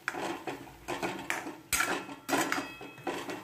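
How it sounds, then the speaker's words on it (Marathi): A spatula stirs prawn masala in a pan for a spicy prawn curry, making repeated rhythmic scraping and clattering strokes against the metal, close and fairly loud, with no voices. "व्यवस्थित असं फ्राय परतून घ्यायचं"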